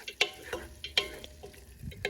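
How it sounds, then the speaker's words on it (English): Tofu and kimchi being stirred in a sizzling pan, with repeated scraping strokes of a utensil over a low, steady frying hiss and no talking. "you just mix it again."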